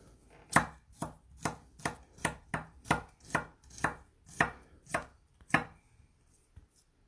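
Knife chopping garlic cloves on a cutting board in a home kitchen, about a dozen sharp, evenly spaced chops close up, then stopping, with no talking.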